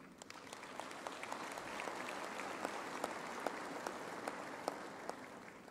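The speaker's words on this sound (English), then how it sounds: "I think they deserve a round of applause" A university Faculty of Education graduation ceremony audience applauds steadily, a soft, even patter of many hands heard from some distance for the whole stretch.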